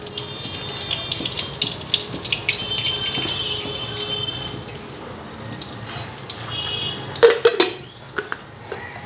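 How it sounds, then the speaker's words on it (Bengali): Tap water running into a kitchen sink while potatoes are washed, a steady close splash for several seconds, then the flow stops and a few louder clatters and drips follow. "আলুটা ধুইয়া নেই"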